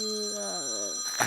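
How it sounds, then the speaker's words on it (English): A mobile phone rings close by, a short electronic tone that steps downward in pitch over about a second before a brief rustle, with no talk over it. "Oh, it's my phone."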